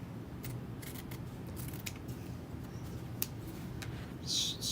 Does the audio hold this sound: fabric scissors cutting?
yes